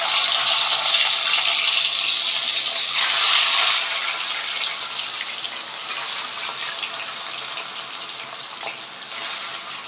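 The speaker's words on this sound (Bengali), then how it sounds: "তেল গরম হয়ে গেছে, এখন গরম গরম তেলে এগুলো ভেজে নেব।" Rui fish pieces coated in salt and turmeric fry in hot oil with a loud, steady sizzle that eases slightly partway through and then holds evenly to the end.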